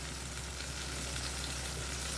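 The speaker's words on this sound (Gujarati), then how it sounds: "તો હવે આપણે આમાં કાંદા એડ કરી દઈશું." Chopped onions fry in a pan for a Kathiyavadi Rajvadi Anguri sabji, giving a steady, close sizzle that runs unbroken with no talking.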